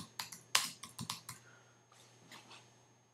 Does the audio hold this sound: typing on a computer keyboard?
yes